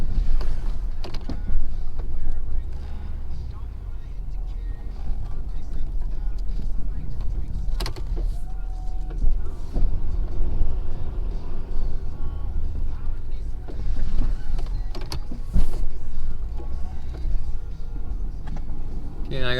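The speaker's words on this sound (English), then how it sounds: "love the sound of the diesel while I'm plowing. It's just that nice little small idle sound." A diesel plow truck idles with a low, steady rumble while clearing an access road, with occasional creaks and mechanical clunks as someone talks over it most of the time.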